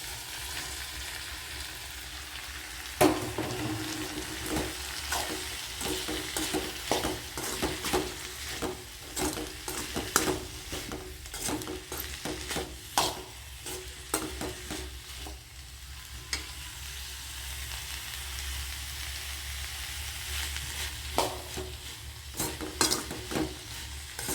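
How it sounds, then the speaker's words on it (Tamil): Dried salted fish frying with softened tomatoes in a pan, a steady close sizzle with frequent scraping and stirring clatter, no talking. "தக்காளி நல்லா வணங்கிடுச்சு கருவாட்டை போட்டுக்கலாம்"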